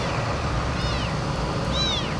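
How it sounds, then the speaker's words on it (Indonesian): A kitten gives two short, high meows about a second apart, faint against a loud, steady rumble of road or engine noise. "Oh, ada anak kucing"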